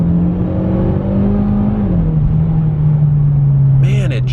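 A Mitsubishi Lancer Evolution X MR with a dual-clutch gearbox accelerates hard. A loud, close engine roar holds steady with a brief dip in pitch midway, like a quick gear change.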